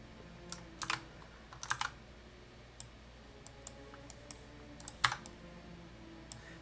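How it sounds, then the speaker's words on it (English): Computer keyboard keys click softly and irregularly as someone types, scattered taps over a faint steady background hum. "The clicks are so satisfying. That would be my keyboard."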